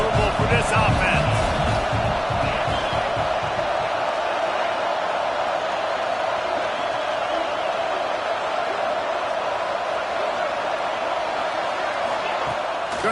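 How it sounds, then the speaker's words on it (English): A big football stadium crowd at a Penn State vs Florida game roars steadily and loudly throughout, with a broadcast commentator talking over it. "This crowd trying to make life miserable for this offense."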